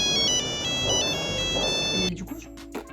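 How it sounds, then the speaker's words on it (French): A mobile phone ringtone plays loudly for about two seconds as a repeating electronic melody, then cuts off, followed by faint rustling and movement in a quiet room. "et mon téléphone sonne."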